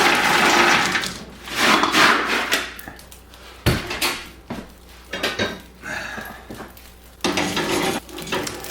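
Coal is stirred in a coal cook stove: metal scraping and clanking of a tool against the firebox and grate, irregular bursts of rattling and grinding, close and fairly loud, with brief pauses between strokes.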